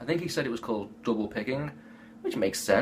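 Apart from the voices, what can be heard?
No everyday noises stand out.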